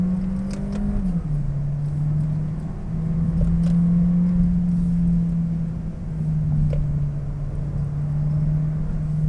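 Volkswagen Golf 1.4 TSI R-Line entering a roundabout, heard from inside the cabin as a steady low engine drone that dips as the car slows, then holds an even hum with road rumble and no talking.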